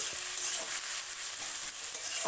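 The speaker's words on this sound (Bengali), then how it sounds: "পেঁয়াজগুলো কড়াইতে দিয়ে বেশ ভালো করে নাড়াচাড়া করে নিতে হবে দেখুন আমাদের নাড়াচাড়া পর্ব চলছে" Sliced onions frying in a kadai for Bengali mutton curry, a constant soft sizzle with repeated scraping stirs of a spatula, close and alone.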